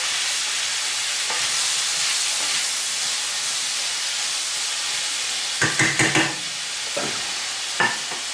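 Diced potatoes sizzle and sauté in a pan with peppers, onions and garlic, a steady hiss of frying broken late by a few quick scraping stirs.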